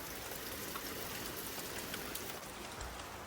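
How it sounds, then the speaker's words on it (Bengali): Heavy rain pours steadily outside in the morning, a dense, even hiss of drops on surfaces with no letup, close and fairly quiet throughout. "বাইরে হচ্ছে প্রচণ্ড বৃষ্টি।"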